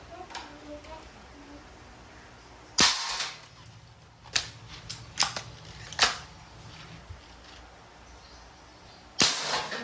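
Crosman MagFire Mission break-barrel air rifle with Nitro Piston firing five sharp cracks at irregular intervals, loud and close over a faint hiss of room noise.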